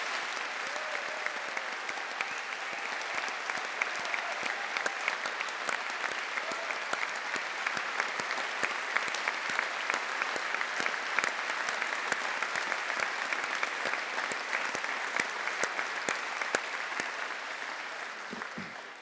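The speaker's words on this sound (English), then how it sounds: "give yourselves a big round of applause to celebrate your achievements" Graduates and guests in a university summer graduation ceremony hall clap in sustained, even applause, a broad crowd wash of many hands lasting the whole stretch and fading slightly at the end, without talk.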